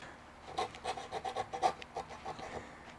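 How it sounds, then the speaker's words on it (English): A small razor saw cuts the wood of a scratch-built figure-8 electric guitar body in quick, even back-and-forth strokes, close and fairly quiet, with no voices. "We'll use this little razor saw right here."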